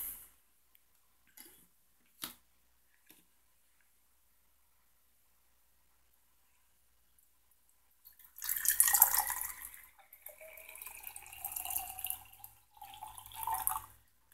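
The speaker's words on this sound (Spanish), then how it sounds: "voy a llenar los dos frascos" Distilled water is poured into two small jars, a few faint drips and taps at first, then a louder splashing, gurgling pour that comes in bursts near the mic, with no talking.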